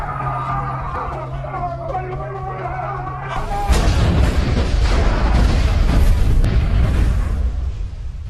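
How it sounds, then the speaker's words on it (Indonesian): A bomb blast in a 2025 film scene: after a few seconds of tense music, a sudden loud explosion breaks in, followed by a heavy, rumbling wash of debris and noise that lingers to the end. "Beruntung ledakan tersebut tidak terlalu besar"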